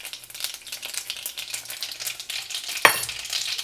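Mustard and fennel seeds fry in hot oil in a pan, a close, steady crackling sizzle with a sharp metallic clink near the end.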